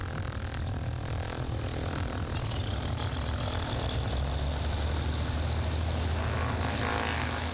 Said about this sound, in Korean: 드디어 훈련기가 이륙 준비를 시작했다.